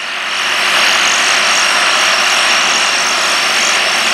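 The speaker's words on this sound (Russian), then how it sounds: "Трактор довольно-таки хорошо идет," A tractor ploughing a field runs with a steady, loud engine drone and broad mechanical roar that holds even throughout, with no talk.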